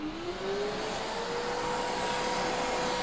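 A vacuum cleaner run in blow mode to dust off a Gigabyte GTX 1080 Ti graphics card gives a loud, steady motor whine and airflow rush that quickly ramps up in pitch and then holds constant, with no talking.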